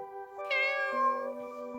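A black cat gives one clear, close meow, rising then falling in pitch, followed by a quieter lingering tone over a faint steady background hum.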